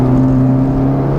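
A 2019 Honda Civic Type R fitted with a Borla exhaust holds a steady, loud, droning engine note from inside the car, with no clear rise in pitch and no talking.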